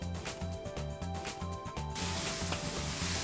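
Kung Pao chicken with peanuts sizzles and hisses in a wok during fast stir-frying, a steady bright frying hiss over a rhythmic low background, with no talk.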